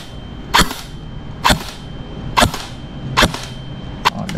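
An E&C 105 airsoft rifle shooting 0.20 BBs gives five sharp, loud cracks at a steady pace roughly a second apart, each with a short ringing tail, over a quiet background.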